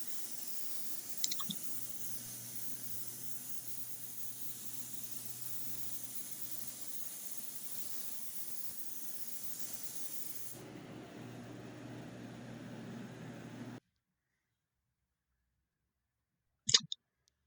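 Spray gun laying PPG red base coat on a 1968 Dodge Charger R/T during restoration, a steady close hiss running unbroken for about fourteen seconds before cutting off, followed by a brief click near the end.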